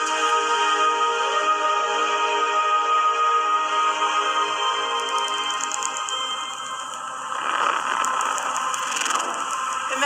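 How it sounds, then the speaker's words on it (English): Simulated gravitational-wave sound from merging black holes, a sustained tonal hum with layered drifting pitches, growing into a rhythmic ticking and buzzing flutter near the end. "your ear would resonate with the squeezing and stretching of space. You would literally hear the sound."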